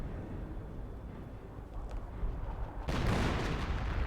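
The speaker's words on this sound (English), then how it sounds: "a howitzer does get a good hit there on those grenadiers" A howitzer shell slams into a squad of German grenadiers in the World War II strategy game Company of Heroes, a sudden heavy blast that jumps up about three seconds in over a constant rumble of battlefield noise.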